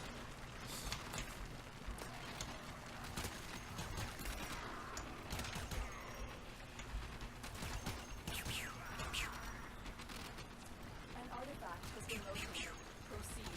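Rapid weapon fire and combat clatter in the sci-fi game Warframe, running as a steady dense barrage through the whole stretch while someone talks over it.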